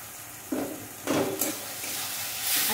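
Potatoes tipped into hot spiced masala and stirred, with two bursts of sizzling as they hit the pan, then a softer continuous frying hiss that swells again near the end.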